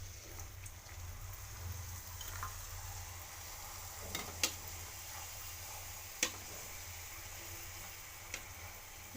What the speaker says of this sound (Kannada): ಇದನ್ನು ಎಣ್ಣೆಯಲ್ಲಿ ಡೀಪ್ ಫ್ರೈ ಮಾಡಬೇಕು. ಎಣ್ಣೆ ಕಾದ ನಂತರ ಪೂರಿಯನ್ನು ಹಾಕಿ